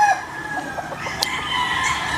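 A stag gamecock, a McLean Hatch crossed with Nelson Black, crows and clucks briefly at a game farm. The call is short and moderately close over faint background noise.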